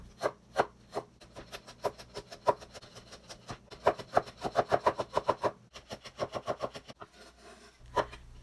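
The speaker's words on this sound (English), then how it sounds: "Chop the carrots finely." Carrots are chopped finely with a knife on a cutting board for Korean egg rolls: quick, close, crisp repeated thuds in bursts of rapid strokes, with brief pauses between runs and no talking.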